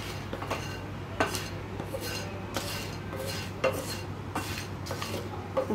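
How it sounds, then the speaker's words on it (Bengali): Whole spices, including cardamom pods, being stirred in a pan for dry roasting: repeated metallic scrapes and clinks of a utensil against the pan at an uneven rhythm, close and fairly loud, with a low hum beneath and no talk. "এগুলোকে ভালোভাবে নেড়ে চেড়ে"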